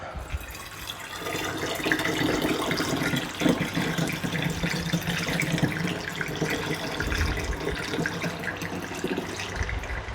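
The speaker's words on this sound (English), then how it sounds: "And then it's just a matter of pouring in that beautiful syrup." Vanilla syrup poured through a funnel into a bottle, a steady liquid trickle and gurgle running without pause, close and fairly loud, with no talking.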